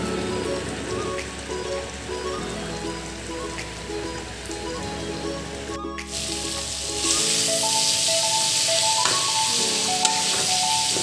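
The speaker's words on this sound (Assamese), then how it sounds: "মাংসখিনি খুব ধুনীয়াকৈ উতল আহিছে" Chicken meat and banana flower with coriander leaves simmer in a pot, giving a constant close bubbling and sizzling that grows slightly louder partway through, with no voices.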